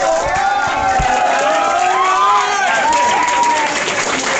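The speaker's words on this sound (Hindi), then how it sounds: "एक बार फिर से खड़े होकर जोरदार तालियां हमारा सक्सेना" A club audience rises for a standing ovation, and loud, continuous clapping blends with raised, cheering voices throughout.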